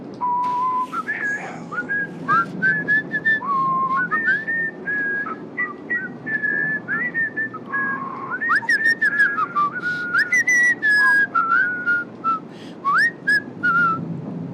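Human whistling of a wandering melody, clear and close, with rising and falling notes in short phrases over a low murmur of background sound.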